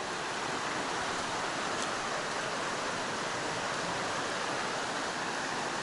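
Hazel Creek in the Great Smoky Mountains rushes over shallow rocky shoals on the way toward Fontana. The flow makes a steady, even wash of water noise that fills the whole span, with no voices or breaks.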